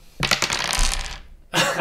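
Dice tumble and clatter across a table during a Donkey Kong board game, one long rattling roll followed by a second short burst, close and crisp with no voices.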